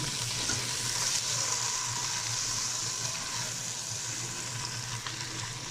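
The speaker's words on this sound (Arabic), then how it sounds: "هنزل اول حاجه بالطماطم اهو نشوح فيها" Tomatoes sauté with onion in a hot pan for lentil soup, giving a steady, even sizzle close up that holds at the same level throughout, with no voices.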